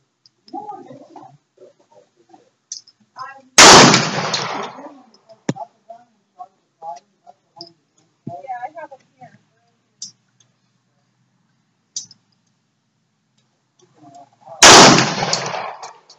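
A .45 pistol fires two loud, sharp shots roughly eleven seconds apart outdoors, with faint voices and small clicks in between.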